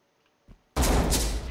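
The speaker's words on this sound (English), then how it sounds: "Shoot your shotgun again?" A shotgun blast in the tactical shooter Ready Or Not: a faint click, then a sudden loud, broad burst that stays dense and roaring for most of a second, close and with no talking.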